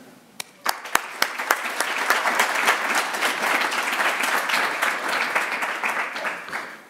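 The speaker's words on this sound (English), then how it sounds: "Well, I don't need such a cheer, Francesca does." A lecture audience welcomes a faculty director to the podium, starting with a few scattered claps that swell into steady, full applause which then slowly fades.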